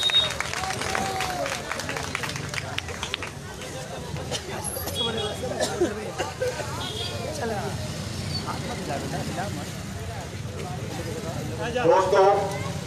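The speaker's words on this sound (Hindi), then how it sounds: "आप सुरक्षा के उनकी भी हौसला अफजाई के लिए जोरदार तालियां सुनकर इस्तकबाल करें" Applause and crowd murmur from an audience welcoming a poet at a live Shaheen Bagh gathering in Watgunj, Kolkata, steady throughout and swelling near the end.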